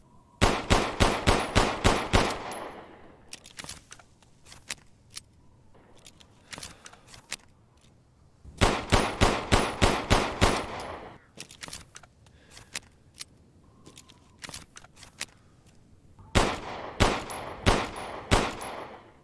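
M1911 pistol fired in the Resident Evil Village video game, three rapid volleys of loud, evenly spaced sharp shots, each followed by quieter clicks and reload handling noises, with no voices.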